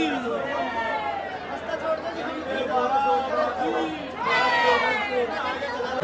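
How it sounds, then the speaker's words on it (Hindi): Dense crowd chatter from many overlapping voices fills the grounds of a crowded Shani Dev temple, a steady close-up murmur that swells louder near the end. "देखो कितनी सारी भीड़ है मंदिर पर भी"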